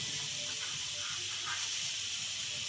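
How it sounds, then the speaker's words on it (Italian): A pressure cooker making broth in a home kitchen lets off a steady, fairly faint hiss of escaping steam for a few seconds, with nothing else heard. "Quello che sentite è la pentola a pressione. Stiamo preparando il brodo."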